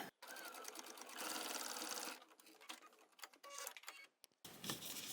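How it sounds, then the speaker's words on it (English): A sewing machine stitches quilt binding, running in steady rapid bursts with short pauses between them as it goes back and forth over the stitches, close and clear. "I'm going to run over my starting stitches and then go back and forth before I cut my thread."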